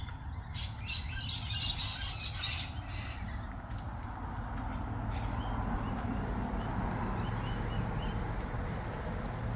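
Parrots and other birds around a house give scattered squawks and chirps over steady low background noise, faint and fairly distant, with no one talking.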